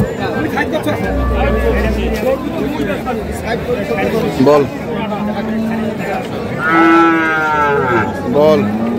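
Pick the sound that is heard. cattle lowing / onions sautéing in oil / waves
cattle lowing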